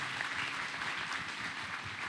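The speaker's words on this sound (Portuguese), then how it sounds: "Pode dar um forte aplauso ao Senhor?" A church congregation applauds together, a dense, steady wash of clapping from a crowd that sounds somewhat distant and evenly sustained throughout.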